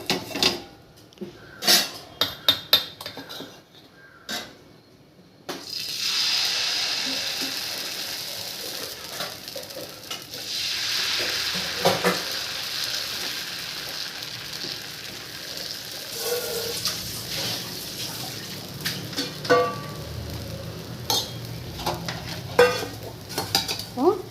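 Dosa batter made with balloon vine greens fries on a hot pan, giving a steady sizzling hiss with scraping spatula clicks and utensil taps scattered throughout, fairly close and moderately loud.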